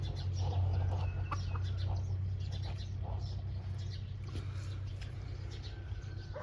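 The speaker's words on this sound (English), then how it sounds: "Little mini short leg" Small short-legged mini chickens clucking on a farm in Isaan, soft scattered clucks over a steady low outdoor hum, close by and fairly quiet, with no talking.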